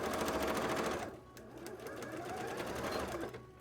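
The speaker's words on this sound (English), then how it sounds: "And sew that the whole way around like so." A sewing machine runs close and steady around a cosplay piece, loud at first, then continuing at a softer, even hum with a rapid stitching rhythm.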